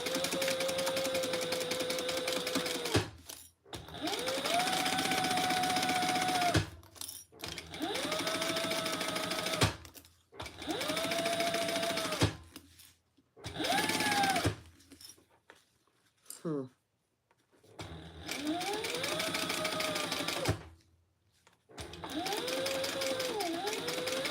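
A sewing machine stitches a seam on a cute fabric bag, running in several loud close bursts of rapid whirring with sudden stops and short gaps between them, a voice talking in places.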